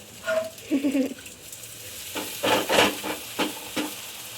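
Dhapata flatbread cooks on a griddle in oil, Satara style, giving a soft sizzle with scraping and rubbing strokes in short bursts, close by and moderately loud, with no talk.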